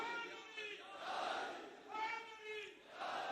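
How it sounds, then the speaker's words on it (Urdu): A crowd loudly chanting the religious slogan "Ya Ali" at an Islamic gathering, voices rising and falling in several long, swelling waves of collective shouting. "اگر نعرے لگانے ہیں تو مولا علی کے لگائیں یا علی"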